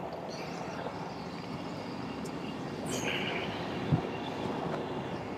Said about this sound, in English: And this sound which you are listening is railway engine sound